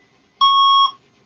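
A radio station time signal tone sounds on 680 News Toronto, a single clean electronic beep lasting about half a second, loud and alone against silence.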